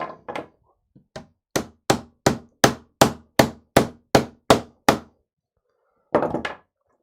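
About a dozen sharp, evenly spaced hammer blows ring out close by, beating a steady rhythm and then stopping, during work on a MingDa MD-16 3D printer.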